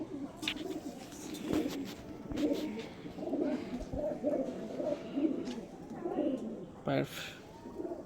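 A Kalanka pigeon coos in repeated low, throaty rolls, close by, with brief pauses between phrases and a sharp knock near the end.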